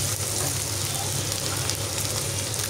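Pumpkin greens and shrimp frying in a pan, giving a steady, close sizzle with soft stirring throughout, no talking over it.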